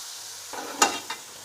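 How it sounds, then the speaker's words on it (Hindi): Chicken fries in a pan with garlic paste, a steady sizzle broken by a couple of sharp scraping stirs of a spatula, close and clear with no talking. "हमारा चिकन अच्छे तरीके से भून रहा है"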